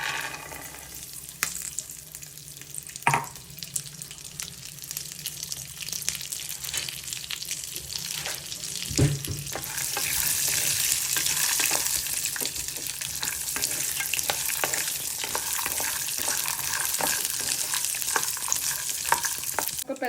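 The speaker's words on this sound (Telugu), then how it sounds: "ఇప్పుడు ఆయిల్ వేసుకొని ఆయిల్ హీట్ ఎక్కిన తర్వాత మనం తీసుకున్న పల్లీలు వేయించుకోవాలి." Peanuts fry in a little hot oil in a pan for a Lingaiah chutney. A steady sizzle runs throughout, broken by a few sharp clanks and scrapes of stirring. It swells louder in the second half, and no one speaks.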